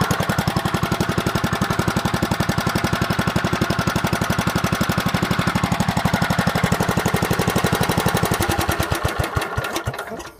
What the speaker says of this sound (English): Should just be a 1-pull start.